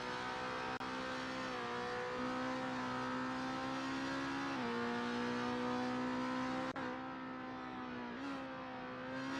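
A touring race car in a sim racing game crosses the start-finish line at the end of its outlap, its engine droning steadily and shifting pitch with gear changes, loud and close throughout.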